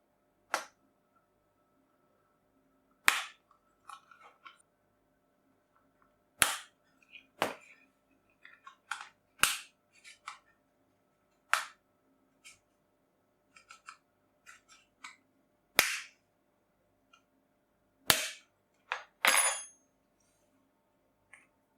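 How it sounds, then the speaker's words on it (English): Plastic casing of a Nextbase 402G dashcam being pried and levered open: sharp, isolated cracks and clicks scattered through near silence, close and distinct, with small rattles between snaps. "Once you get it partially separated, you can then just go around and lever the casing open."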